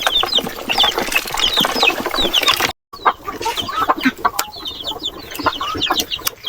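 Chickens and young chicks on a small Philippine farm cheep and cluck almost nonstop, high peeping calls overlapping at close range with a brief drop to silence partway through.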